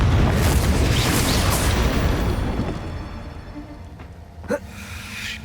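A Confringo fire blast spell in Hogwarts Legacy bursts in a loud, rumbling boom that slowly fades over a few seconds, then a short sharp pop follows near the end.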